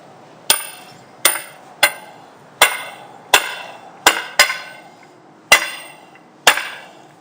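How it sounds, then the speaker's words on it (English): A jackhammer driving steel pins, a series of sharp metallic blows at irregular intervals, each strike loud and ringing briefly before fading. "we can start with the jackhammer"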